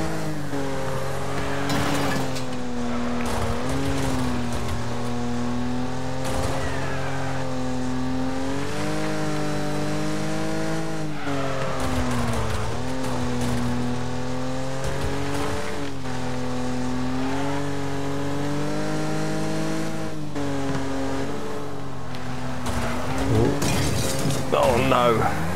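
Racing and wrecking cars in the Wreckfest video game: a steady, roaring engine drone that rises and falls as it revs, with crunching impacts and tire noise scattered throughout, and a voice talking over it.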